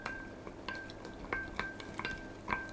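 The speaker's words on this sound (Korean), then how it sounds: "양조간장 2큰술, 미림 4큰술, 다진 마늘 1큰술, 조청 2큰술, 된장 1큰술 섞어주세요" A utensil stirs a sauce of soy sauce, mirin, minced garlic, grain syrup and doenjang, giving quiet, irregular light clinks against the container, about six or seven taps spread over a few seconds with no talk.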